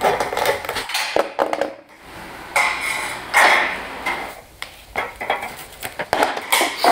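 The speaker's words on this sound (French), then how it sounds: "Ils doivent être découpés à la bonne longueur à l'aide de la cisaille à tôle." Sheet metal shears cut metal UW partition profiles, giving a close series of irregular metallic snips and clanks, loud and alone without talk.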